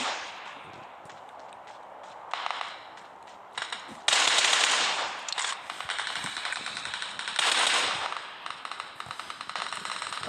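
Rapid bursts of video game gunfire crackle through a firefight, with sharp automatic volleys building to loud, dense stretches and dropping back between them.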